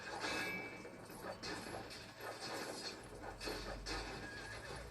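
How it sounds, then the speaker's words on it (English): Horse whinnying in the LEGO Pirates of the Caribbean video game, several loud neighs over a busy game soundscape with clip-clop hooves. "Oh, we got a free horse now."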